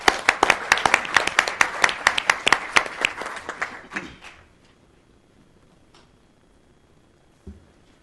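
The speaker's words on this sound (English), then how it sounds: "One more round of applause." Audience applause at a city council meeting: a burst of sharp, close claps that thins out and stops after about four seconds, followed by a quiet room with one faint knock.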